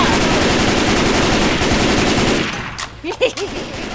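Rapid automatic gunfire from the video game Left 4 Dead 2 rattles loudly for about two and a half seconds, then breaks into a few separate shots mixed with excited voices.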